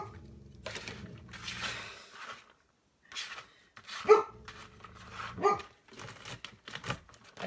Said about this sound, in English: you can hear my dog Leroy